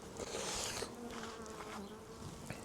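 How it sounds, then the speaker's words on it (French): Italian honey bees swarm over a hive frame during an inspection, a dense close buzzing drone that hums steadily throughout with no voices. "Ce sont des abeilles italiennes, donc ils tiennent bien le cadre."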